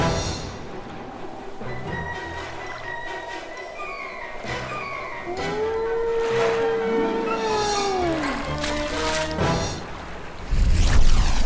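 Long, sweeping whale calls in a children's cartoon rise and fall in pitch over a murky underwater rumble, ending with a louder rushing surge.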